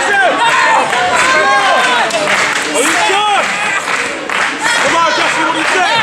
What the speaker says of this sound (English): Crowd getting behind the No Limits champion